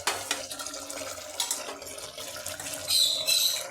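Chicken broth poured into a cooking pot after two pressure-cooker whistles, making a steady, fairly close liquid splashing and trickling that swells louder near the end.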